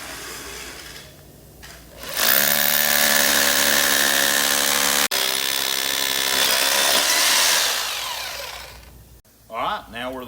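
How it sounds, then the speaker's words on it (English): A 3/8-inch bit drills anchor bolt holes about five inches deep for a RollSeal RAM protection bollard, the steady loud whine running for several seconds after a short start, then stopping abruptly near the end. "So now that our anchor bolt hole location is marked, we're going to drill them out."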